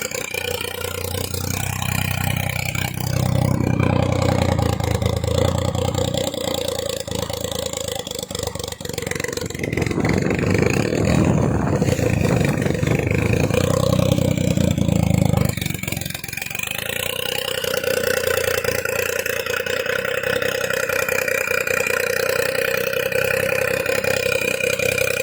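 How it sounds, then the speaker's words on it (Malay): A Perodua Kancil Avy turbo engine idles after a full overhaul, a steady mid-pitched hum with a brief rougher swell midway, heard close and alone without talk. "Enjin dah senyap. Okey, ini dah senyap."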